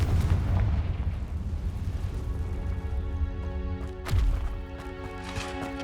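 Confringo blasting spell exploding in the Hogwarts Legacy video game: one sharp burst with a low rumble that trails off, heard over a dense, steady game soundscape of rumbling ambience and tonal music.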